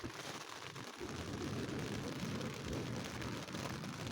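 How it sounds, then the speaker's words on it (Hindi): Rain falls with strong wind at a hillside campsite, a dense steady hiss of drops and gusts that stays continuous and fairly quiet, with no voices. "थोड़ी देर में बारिश स्टार्ट हो गई और बारिश के साथ तेज़ हवा भी आना शुरू हो गई।"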